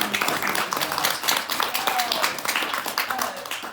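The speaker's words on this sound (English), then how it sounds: "Just a special round of applause to my friend Eva" A room of people at a historical talk gives a round of applause, a dense, fairly loud wash of clapping with a few sharper claps within it.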